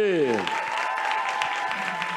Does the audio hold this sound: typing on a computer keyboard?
no